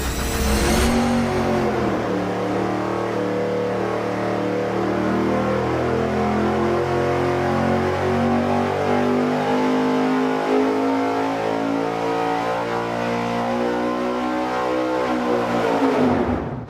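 A dyno-mounted engine fitted with a larger 90-millimeter throttle body revs hard in a sustained, loud pull, climbing through the rev range before dropping off at the end, with no talk.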